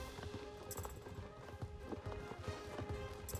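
Hooves of a running horse strike in a quick, uneven clip-clop rhythm, fairly faint and mixed with scattered knocks and a soft background hum.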